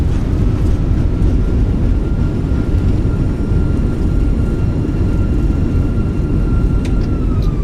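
In a flight simulator, the thrust reversers of a Fenix Airbus A319 roar during landing rollout at São Paulo Congonhas, a loud, steady, dense jet rumble with a faint thin tone running beneath it.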